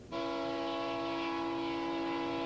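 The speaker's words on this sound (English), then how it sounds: "A Union Pacific train crosses the McNeil Diamond." A Union Pacific train sounds a sustained, loud, tonal horn as it crosses a railroad diamond. The blast starts abruptly and holds steady and close for the whole moment.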